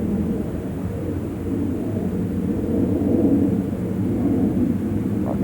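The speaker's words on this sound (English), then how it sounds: "it's like the fighter jet sound" A distant fighter jet flying low somewhere out of sight in the sky, heard as a steady, continuous low rumble that swells slightly midway and stays alone with no voices.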